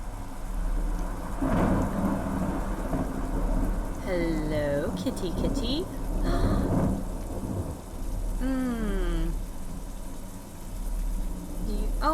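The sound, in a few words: rain and thunder in a video game (The Excavation of Hob's Barrow)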